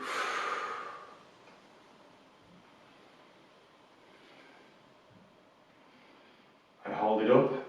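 Slow, deep breaths during a stretching routine, a long airy exhale at the start and another strong breath near the end, close and soft, with faint hiss in between.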